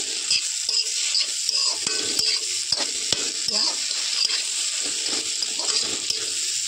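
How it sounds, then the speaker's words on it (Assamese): Taro and masoor dal curry is stirred in a pan, a spoon scraping and tapping in an irregular rhythm over a constant close frying sizzle. "মই লৰাই থাকোঁ।"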